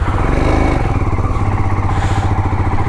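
Royal Enfield Himalayan motorcycle engine running at a petrol pump in Dharchula, a steady, loud, close thumping idle with some mechanical clatter throughout.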